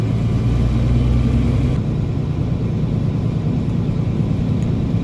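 Truck engine running loud and close, a steady rumble whose pitch drops and changes character partway through as throttle is given to drop into gear.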